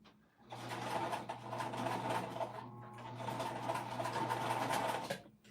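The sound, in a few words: sewing machine top stitching a pouch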